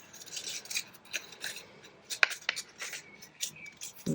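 Scissors snip through card pieces in a series of soft, crisp cuts with light rubbing and paper handling between them, close and quiet.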